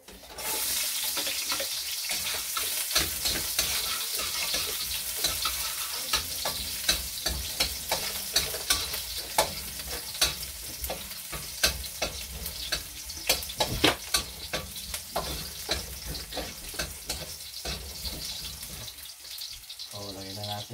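Garlic sautés in a pan for ginataang igat, a dense steady sizzle with repeated stirring scrapes and clinks, fairly close, with faint background sounds that may include running water.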